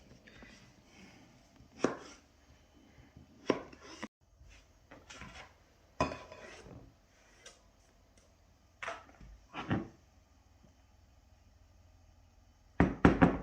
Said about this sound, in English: You cut your potatoes up in small squares